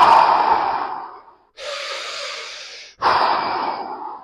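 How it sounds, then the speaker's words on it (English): Bellows breathing for a yoga exercise, with forceful continuous breaths through the nose, a long exhale followed by two sustained inhale-exhale bursts with only brief breaks, close and loud, no talking. "So this is the bellows breathing, is what I call it."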